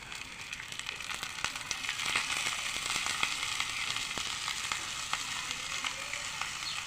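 Green chilli frying in a hot pan for khichdi, a soft, steady sizzle with light crackles, fairly quiet and alone.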